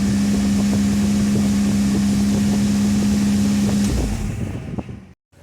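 A Pontiac Fiero on a test drive after a C500 connector repair, a loud steady engine drone with a constant tone and heavy wind rush, the engine note dropping away before the sound cuts off abruptly near the end.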